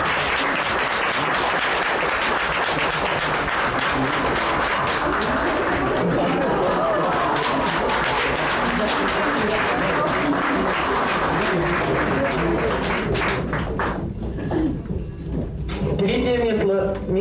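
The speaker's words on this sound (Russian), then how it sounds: "И аплодисменты, конечно." Audience applause at a Christmas beauty-pageant prize ceremony, dense and sustained clapping mixed with crowd chatter and voices, tapering briefly near the end before picking up again.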